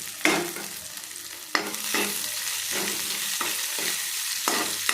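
Okra and onion stir-fried in oil in a pan for a village-style okra kara kuzhambu, with steady sizzling and repeated scraping stirs of a spatula, close and alone.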